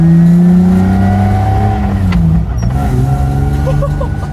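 A car engine accelerates loudly, its rising harmonic drone climbing in pitch, easing off midway and then pulling again, steady and close throughout.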